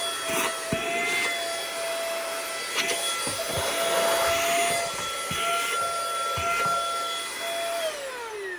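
Mistral 7.4V compact cordless handheld vacuum cleaner running steadily, a close, continuous motor whine with a high tonal hum and airflow, no talk over it.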